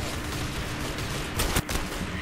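Gun in the Roblox game Arsenal firing a quick cluster of sharp shots, fairly quiet, over steady background game noise.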